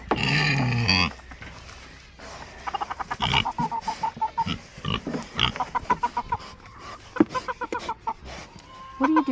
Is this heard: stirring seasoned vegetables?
no